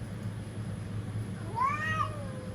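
Cats facing off in a threat display, a single rising and falling yowl in the middle of the clip over a low, steady background hum, moderately close and without speech.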